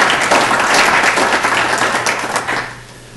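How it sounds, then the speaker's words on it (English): A crowd at a school board meeting claps and applauds, a dense, loud burst of many hands that holds steady and then tapers off near the end. "You guys can clap as he's walking up there."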